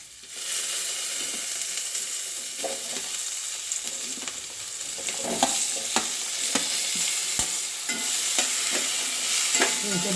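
Vegetables for a foxtail millet khichdi being stir-fried and mixed in a pan: a strong, steady sizzle with frequent spoon scrapes and knocks against the pan, continuing for about ten seconds with no voices.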